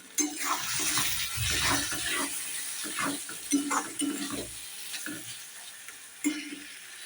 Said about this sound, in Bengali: মশলাটা কিন্তু ভাজা হয়েই গেছে, তেল ছাড়ছে দেখো, তার মানে মশলাটা ভাজা হয়ে গেছে।